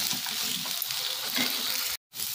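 Drumstick and potato curry, Odia style, fries in a pan with a close, steady crackling sizzle that cuts out briefly just before the end.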